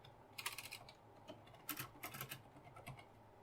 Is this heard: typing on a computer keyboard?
yes